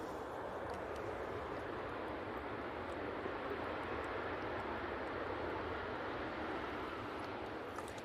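An SAS Embraer airliner at Manchester Airport produces a steady, distant engine roar that holds an even level throughout with no talk.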